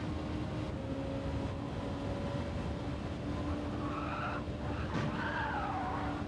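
In the Gran Turismo 7 racing game, car tires squeal and skid in wavering bursts over a steady, dense engine and track roar that continues throughout.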